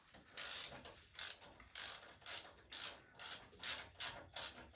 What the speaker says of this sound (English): we just loosen the bolt, we don't need to remove it.